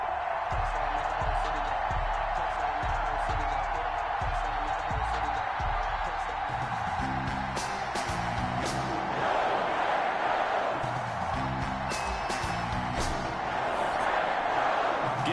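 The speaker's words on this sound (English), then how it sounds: "This crowd is ready as their guys get set to match up between the Washington football team and the Green Bay Packers." Stadium crowd noise in an EA Sports NFL video game before a Washington football team versus Green Bay Packers matchup, a dense steady roar of fans with swelling chants and cheers, overlaid by commentators talking.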